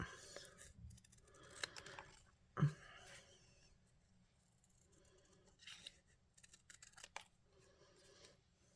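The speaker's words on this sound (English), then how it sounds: "Trick is to move paper, not the scissors." Scissors fussy-cut paper for a handmade card, giving quiet, intermittent snips and rustles spread across the clip, close by but faint.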